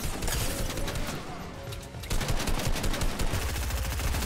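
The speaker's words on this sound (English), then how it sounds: "this drum gun's just not fair" Rapid drum gun fire in a Fortnite-style shooter match, a dense, continuous burst of loud automatic shots that swells louder halfway through, with no talk over it.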